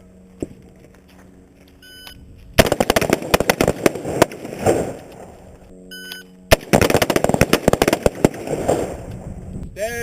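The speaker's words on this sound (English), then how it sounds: "2 rounds in 2 seconds. We'll do that 5 times." Paired gunshots from a Haley Strategic adaptive carbine on a firing range, sharp loud cracks in two rapid bursts with echoing tails, separated by brief beeps and quiet pauses.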